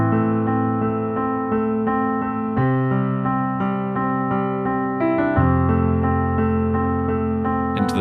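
Solo piano plays the intro of a song with sustained, gentle chords that shift every few seconds, heard up close with no voices.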